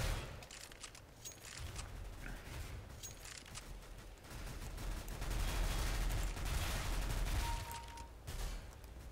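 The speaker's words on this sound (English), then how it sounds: "Don't be shooting at me, teammate." Rapid gunfire in the video game Counter-Strike: Global Offensive, bursts of shots crackling continuously at moderate volume with no talk.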